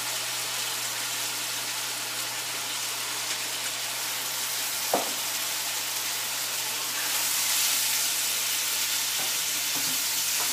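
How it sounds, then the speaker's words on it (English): Beetroot and meat sizzle loudly and steadily in a wok over high flame, a continuous close frying hiss with a brief stir or scrape now and then. "we can just keep sauteing this in this wok"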